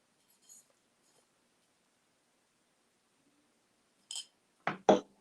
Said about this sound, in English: Kristen, are you talking about this dark glass tumbler?